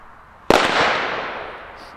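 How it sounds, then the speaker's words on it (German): A single sharp bang from a Funke Honey Badger firecracker, loud and nearby, followed by a long fading rumble and hiss. "Sehr, sehr gute Böller."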